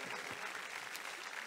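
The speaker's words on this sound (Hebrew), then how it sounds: "איפה מחיאות הכפיים שלכם?" Dense, steady applause from a concert audience at a tribute show for an Israeli singer, heard in a short, loud burst of clapping.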